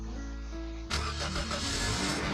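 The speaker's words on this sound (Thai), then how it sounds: "เดี๋ยวผมจะขับรถไปซื้อนะครับผม" A car in the Lumber Tycoon 2 video game starts up and pulls away, its engine note jumping from a steady low idle to a louder, busier rumble of driving off.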